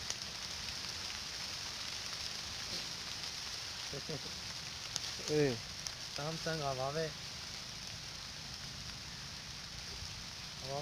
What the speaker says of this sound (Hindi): ओए बारिश दोबारा शुरू हो गई।